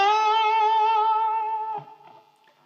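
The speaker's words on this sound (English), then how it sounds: "the guitar riff I'll be learning you today is a really commonly used rock and roll guitar lick" A distorted electric guitar sustains one bent, vibrato-tinged note from a rock and roll lick, then cuts to a few quick muted plucks before fading, close and alone.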